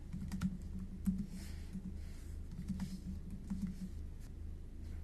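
Fingers type text into table cells on a computer keyboard, making a quick, uneven patter of light clicks. The keystrokes sound close but soft and run steadily over a low background hum.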